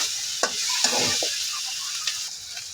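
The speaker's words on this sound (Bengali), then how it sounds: "এবার এই এইখানে এই মাছটাকেও হালকা একটু ভাজা দেবো আর বাকি পেঁয়াজটা যতটুকু ভাজা হওয়ার প্রয়োজন ওইটুকু হয়ে যাবে" Fish fries lightly with onions in a pan, a steady close sizzle with occasional stirring scrapes throughout, no voices.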